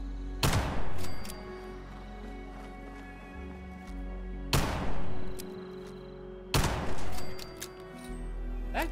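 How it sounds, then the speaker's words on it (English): Distant gunfire in the video game Fallout 76: three heavy, booming shots spaced a few seconds apart, each with a rolling, echoing tail over a steady low game ambience. "That gunfire I'm hearing in the distance, Rob."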